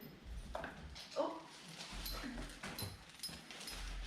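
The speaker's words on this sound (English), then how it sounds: "The dogs are going wild right now." Several dogs whimper and yip excitedly over an advent calendar in a home, with bursts of eager whining scattered through the moment while a person talks nearby.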